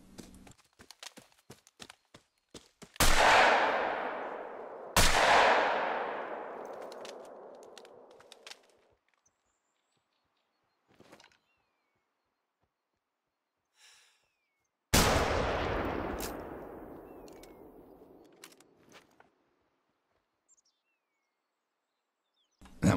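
Three sharp, loud .338 rifle shots ring out in theHunter: Call of the Wild, each followed by a long rolling echo that decays over several seconds. Two shots come close together and the third follows after a pause, with faint scattered clicks between them.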